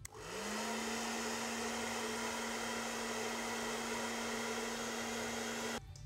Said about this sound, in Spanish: ahora vamos a sellarlas con el secador